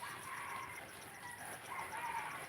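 Chickens dust-bathing in soil-filled pots under banana trees give off soft, faint clucks and calls from a distance over a steady outdoor hiss.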